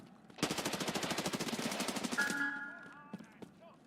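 Rapid automatic gunfire from a weapon in Escape from Tarkov Arena, a close, loud burst of evenly spaced shots lasting about two seconds, followed by fainter in-game sounds and a short ringing tone.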